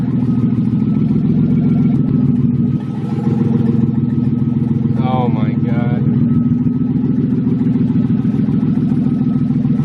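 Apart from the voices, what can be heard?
loud car engine running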